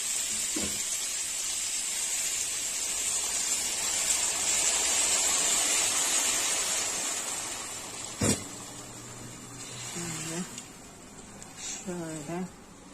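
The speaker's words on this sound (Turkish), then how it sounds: "Ondan sonra kaynatılmış su. Şimdi üzerine dökeceğim." Boiled water poured over beans in a pot gives a steady splashing, hissing rush that swells and fades over several seconds, followed by a few clunks and a voice talking nearby.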